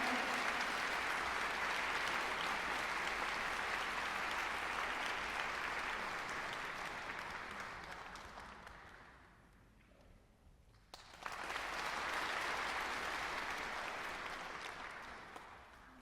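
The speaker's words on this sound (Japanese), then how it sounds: "盛大な拍手でお迎えくださいませ" A concert audience applauds at length to welcome the Japanese ambassador at a Korea–Japan diplomatic normalization 60th anniversary concert. The dense clapping thins out midway, nearly stops, then swells back up to full strength.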